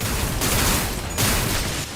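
Rapid gunfire in the video game Limbus Company, two dense bursts of shots separated by a brief dip, loud and close with no talk.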